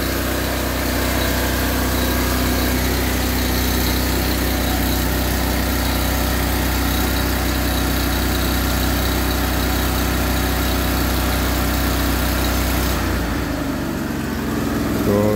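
Steady, loud idle of the gasoline engine on a Miller Bobcat 225 11,000-watt welder-generator after a complete rebuild, running continuously with a low even drone before the sound drops away near the end.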